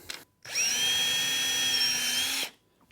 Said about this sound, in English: You're going to need to pilot hole each of the crosses so you know where your screws go.